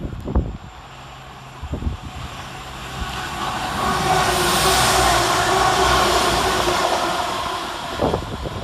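A Northern passenger train, class 195, rushes through a railway station at speed, its roar swelling to a broad rumbling peak mid-clip with wind noise, then fading as it passes.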